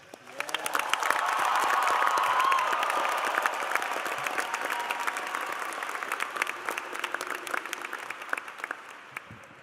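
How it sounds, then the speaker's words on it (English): A large crowd at a high school graduation breaks into sustained applause for the graduates, rising quickly then gradually thinning into scattered claps, with a few faint cheers mixed in. "can we please get an applause for our graduates?"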